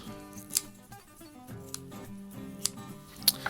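Kitchen shears cut the backbone out of a raw chicken with several sharp, crisp snips spaced irregularly over soft background music.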